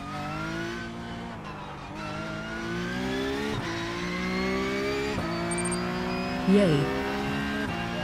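A BMW race car engine in a racing video game drones steadily with rising, shifting harmonic pitch through gear changes, continuous and fairly loud, while a voice briefly cheers over it.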